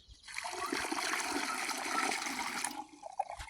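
Water pours steadily into the tank of a pesticide sprayer pump while it is filled for spraying a farm field, a loud continuous gushing for about two and a half seconds that tapers off into a few drips.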